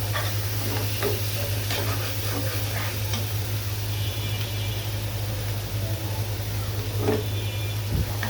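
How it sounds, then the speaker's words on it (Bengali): Spice paste for fish fries and is stirred in a pan over a stove, giving a steady hiss and sizzle with scattered scraping and clicking from the spoon, set against a constant low hum, with no voices. "মাছের জন্য আমি মশলাটা কষিয়ে নিচ্ছি।"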